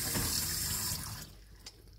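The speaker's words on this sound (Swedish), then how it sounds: "nu håller jag på och sköljer de här lite" Soaked seeds are rinsed under a running tap, a steady close splashing stream that tapers off after a second, followed by quieter sink sounds and a brief knock.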